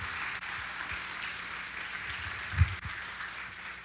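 A church congregation applauds during a worship service, a fairly soft, even wash of many hands clapping together, with one sharper thump near the end.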